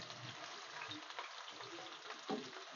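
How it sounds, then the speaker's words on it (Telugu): Onions frying in hot oil for a prawn and egg curry, a soft steady sizzle with occasional stirring scrapes and a brief louder clatter near the end, heard alone without talk. "ఇదిగోండి ఫ్రెండ్స్, ఉల్లిపాయలు అయితే వేగుతున్నాయి కదండి."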